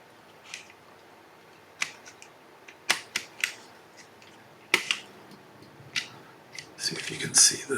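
Small screws being driven into a PSP 1000 handheld console during repair, heard as sparse, sharp close clicks and ticks spaced irregularly over a quiet background, ending in a brief cluster of faint rattling.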